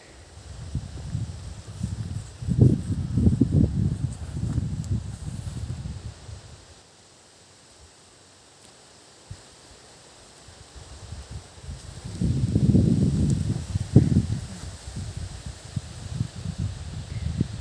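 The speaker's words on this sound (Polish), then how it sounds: "Duży wiatr dzisiaj." Gusts of strong wind buffet the microphone on a goat farm in Masovia, Poland, in two loud rumbling bursts, separated by a quieter lull.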